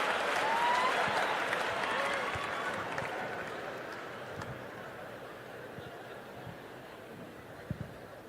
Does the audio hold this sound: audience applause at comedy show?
yes